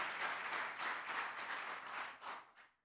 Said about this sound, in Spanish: Give a big round of applause to the Lord.